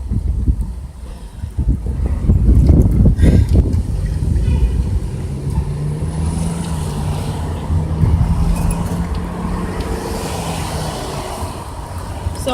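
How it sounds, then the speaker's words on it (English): Strong wind blows past the microphone on a city street, with loud rumbling gusts early on that settle into a steadier, lower buffeting. "I mean, it's just really windy here today."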